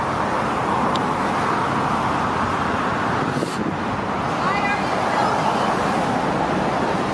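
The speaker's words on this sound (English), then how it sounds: "It's too much traffic." Heavy road traffic rolls past nearby in a steady, loud roadway roar, with a brief swell of a passing vehicle midway and faint voices mixed into the din.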